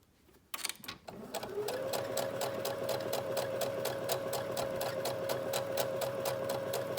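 A sewing machine stitches shirring on its free arm, starting after a few clicks and then running in a steady, rapid mechanical chatter with a humming motor, close and continuous to the end.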